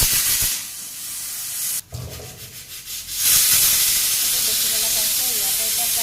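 Pressure cooker releasing steam while cooking dal, a loud continuous hiss that briefly cuts out and then surges back into a steady whistling rush.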